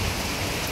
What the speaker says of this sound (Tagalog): Sarap maligo pag ulan, Charis